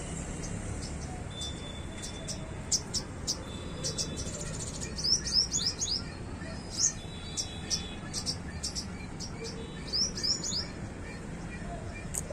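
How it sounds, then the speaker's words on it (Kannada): Birds chirp and tweet in quick bursts against a steady hiss of outdoor ambience, the calls coming in scattered clusters at moderate distance. "ಅಲ್ಲಿ ನೋಡ್ರಿ ಪಕ್ಷಿಗಳು ಬಂದಿದ್ದಾವೆ"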